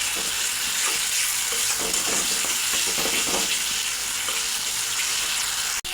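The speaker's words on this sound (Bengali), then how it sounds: "এখন বেটে রাখা টমেটো, আদা আর জিরা দিয়ে দেব। ভালো করে আবার এই মশলাটা কষিয়ে নেব।" A ground paste of tomato, ginger and cumin sautés in a pan for a banana-flower kofta curry, a loud, continuous close sizzle with scraping stir strokes and no talking.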